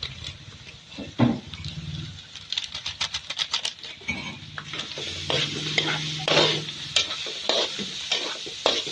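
A spoon stirs sautéed seasoning mix in a pan for spaghetti, giving repeated scraping and clinking strokes in an uneven rhythm over a soft sizzle, close by, with no speech.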